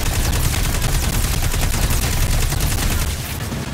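Sustained rapid gunfire from the shooter game Destiny 2, a dense unbroken barrage of automatic shots running loud and close for the whole stretch with no voices over it.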